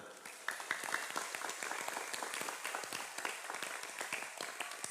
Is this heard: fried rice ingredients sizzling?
no